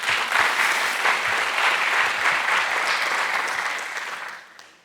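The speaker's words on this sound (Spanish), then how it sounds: "Un aplauso para el Señor." Steady applause from a church congregation during a sermon, a dense wash of clapping hands that holds for several seconds and then fades out, with no talking over it.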